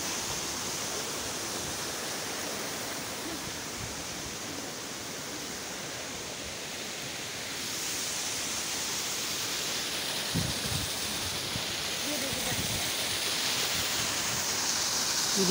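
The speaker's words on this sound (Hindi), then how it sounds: "ये देखिए वाटरफॉल," Badoliya waterfall outside a rooftop temple, running low outside the rainy season, gives a steady broadband rush of falling water throughout, moderately loud and unbroken, with a few brief low thumps near the end.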